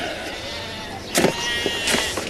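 Sheep bleating a few times over a steady low background hum, the calls short and moderately close, with no clear speech.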